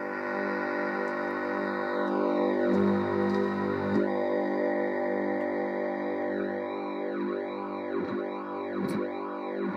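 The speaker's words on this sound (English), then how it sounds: "I'll just put the flanger up now and give that a little modulation" Synth drone on a Delta Music Research 1100 modular system swept by a voltage-controlled flanger, its comb-like notches sliding up and down in slow repeating arcs, steady and fairly loud with no talking.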